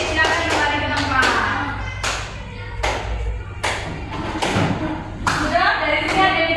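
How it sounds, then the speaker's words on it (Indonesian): A classroom of students claps for a student group, a steady patter of many hands with sharp thumping hits under a continuous hum, with a teacher's voice talking over it. "tepuk tangan buat kelompok singa"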